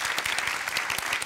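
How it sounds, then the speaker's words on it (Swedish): A studio audience at a televised BingoLotto bingo show applauds in a dense, even burst of clapping close by, with no voices over it. "Ge dem en stor applåd."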